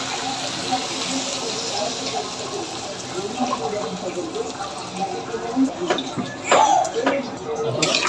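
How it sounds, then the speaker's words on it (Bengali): Four cups of cold water are poured into a pot of broiler chicken kala bhuna curry made with packet spices, a steady splashing flow that swells and breaks up near the end. "আমি এখানে পানি দিয়ে দিচ্ছি"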